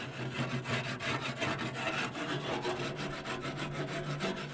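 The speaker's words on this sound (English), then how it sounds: "For the flame broiler, I like to use a wooden grill scraper to scrape off all the charred pieces." A wooden grill scraper rasps steadily across the charred interior of a Pit Boss flame broiler, a close, continuous rough scraping with rhythmic strokes throughout.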